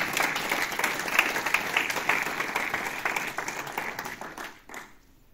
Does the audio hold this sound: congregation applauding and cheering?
yes